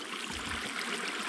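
Water flowing in a pool inside a Minecraft world, a steady, close, fairly loud rushing stream with no voices over it.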